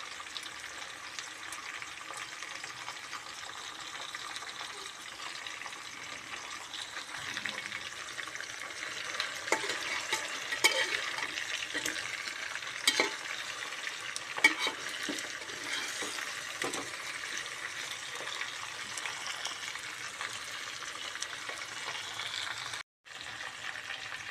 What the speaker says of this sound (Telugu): ఇలా ముక్కలు అన్నీ వేసుకొని కొంచెం కొద్దిగా ఫ్రై కాగానే సూప్ వేసుకోవాలి